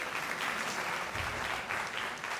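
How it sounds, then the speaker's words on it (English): Loud, dense clapping from an audience at a national-level hackathon event greeting the chief guest, sustained evenly throughout with no voices over it. "A big round of applause, guys."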